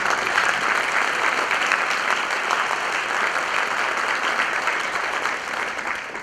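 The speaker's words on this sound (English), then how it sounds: "How about a round of applause for all of our graduates?" An audience at a school scholarship night gives graduates a round of applause, a thick continuous wash of many hands clapping evenly throughout, fading slightly at the end.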